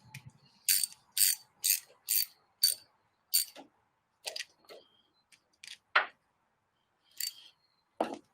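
A ratchet cranking down hose clamps on a sandrail buggy, sharp clicking bursts in quick repeated strokes, then slower scattered clicks, close and fairly quiet with long silent gaps.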